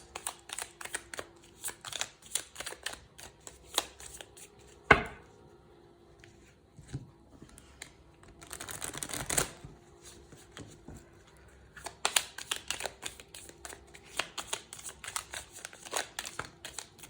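A deck of tarot-style cards is handled, shuffled and cut, giving scattered soft riffles, flicks and slaps in quiet bursts with pauses between.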